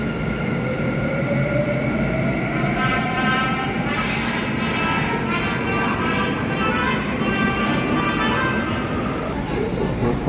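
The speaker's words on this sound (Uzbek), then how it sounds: "Mana Koreya metrosining ichida." Inside a Korean subway car, the train runs with a constant loud rumbling roar and a faint rising motor whine, with occasional clunks over the track.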